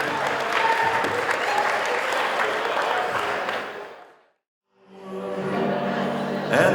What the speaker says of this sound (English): Mike and Sammy, big round of applause.